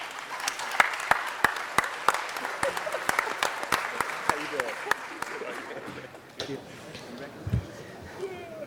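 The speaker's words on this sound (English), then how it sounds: "Let's give him a round of applause." Applause in a city council chamber, a round of clapping with sharp individual claps that fades out midway, followed by faint room noise and quiet voices.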